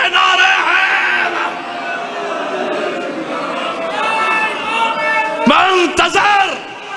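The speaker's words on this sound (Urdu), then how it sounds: "اب دونوں ہاتھ بلند کر کے مل کے نعرے ہیں" A large crowd at a Shia majlis mourning gathering raises both hands and chants religious slogans together, a loud, sustained massed chorus of voices with strong swells near the end.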